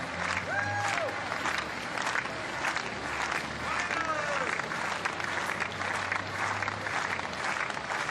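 A home crowd claps steadily for high jumper Karlsson at a heptathlon competition, a wide, continuous patter of applause with a few whistles rising above it, while a commentator talks over it throughout.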